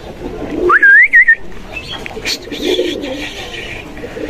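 Two khaki pigeons call close by: a short rising whistle-like note followed by soft, low coos over faint background noise.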